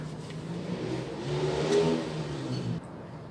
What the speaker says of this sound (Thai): เสียงมอเตอร์ไซค์